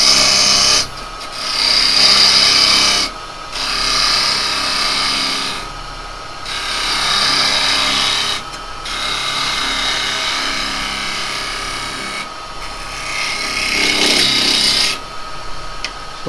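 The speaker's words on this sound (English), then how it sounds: "we'll go about putting a tenon on here" A woodturning chisel slices a tenon into a spinning workpiece on a lathe, giving a loud, continuous scraping rasp broken by a few short pauses as the tool is lifted and re-engaged, with the motor humming beneath.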